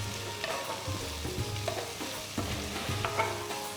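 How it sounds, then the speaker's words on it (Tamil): Onions, green chillies, ginger and garlic sautéing in a pan, a quiet steady sizzle with occasional soft scrapes and clinks of a spoon stirring, close and without talk. "நறுக்குன 2 பெரிய வெங்காயம், கீர்ன 2 பச்சை மிளகாய், நறுக்குன 1 துண்டு இஞ்சி, 5 பல்லு பூண்டு எல்லாத்தையும் சேர்த்து நல்லா வதக்குங்க."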